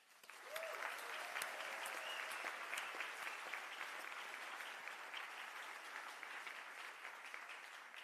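Applause at a university medical school graduation ceremony rises quickly and continues as a dense, even wash of clapping from a large crowd, heard from a distance and fairly quiet.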